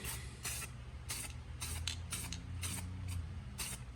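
Spray gun misting paint onto a 1969 Chevy Corvair body panel in short, repeated hissing bursts, about eight or nine close bursts with brief pauses between, over a low background hum.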